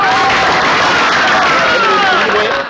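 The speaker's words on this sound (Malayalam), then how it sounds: "എല്ലാവരും കൈയടിച്ച്" Audience clapping at the close of a performance in a Malayalam comedy scene, a dense steady wash of applause with faint voices mixed in, loud and continuous.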